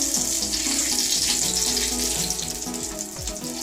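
Green chilies and curry leaves sizzling in hot oil for an eggplant curry, a dense, loud, continuous frying crackle that stays close and steady throughout.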